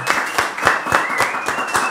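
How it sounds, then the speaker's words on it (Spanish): An audience at a talk with a liquor company CEO claps in a fairly steady, rhythmic beat for about two seconds, moderately loud with no voices over it. "un aplauso, muchachos"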